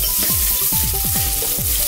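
Cashews, curry leaves, chopped ginger and peppercorns fry in hot oil in a pan, giving a steady loud sizzle with crackling pops spread throughout and no talk.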